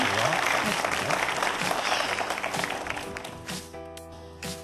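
A studio audience at a Korean youth startup broadcast gives a dense burst of clapping that tapers off after about three seconds, leaving a few soft tones of music as the applause fades out.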